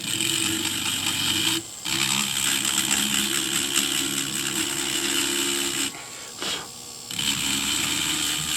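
Echinoid fossils are sanded on a multi-block, giving a loud steady mechanical whir with gritty rasping. It cuts out briefly twice and then resumes.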